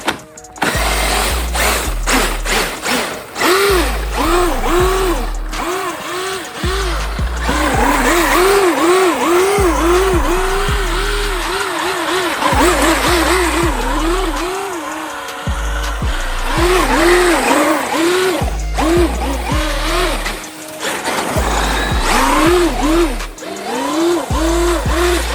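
A 6S-powered Traxxas UDR radio-controlled car drifts on ice, its electric motor whining up and down in rapid, high-pitched revving bursts with brief pauses, loud and close throughout.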